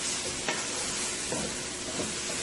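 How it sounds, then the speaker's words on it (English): Ingredients for a fried bora dish with salt fish and potatoes sizzle in a frying pan under steady stirring, a constant close hiss marked by a few soft scraping strokes; no voices. "I'm going to go ahead and give this a nice mix here"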